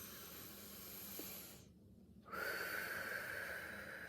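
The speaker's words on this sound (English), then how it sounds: "let's just take a couple of in and out breaths" Slow, deep breaths drawn in and let out through the nose in a calm relaxation exercise, soft airy hissing with a brief pause between inhale and exhale, close and quiet, no talking.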